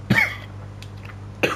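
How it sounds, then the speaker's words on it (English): Two sharp, close coughs from a man at a microphone, one at the start and another a second later, with quiet room tone between them. "I just coughed out of nowhere."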